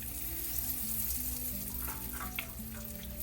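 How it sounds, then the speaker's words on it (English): Chicken strips fry in a modest amount of oil in a pan over medium heat, a steady close sizzle and crackle with a low tonal hum running beneath, no talking. "We'll start frying these."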